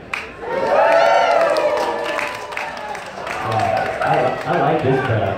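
Loud cheering from a large evening crowd at a live show, with whoops, shouts and scattered clapping swelling and dipping under a mix of voices throughout.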